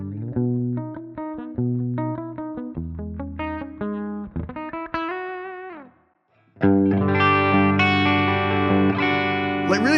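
Electric guitar played through a Jazz Chorus amp model on an IK Multimedia TONEX pedal, shimmering chorused notes and chords picked in phrases, a short pause, then a fuller strummed passage ringing out.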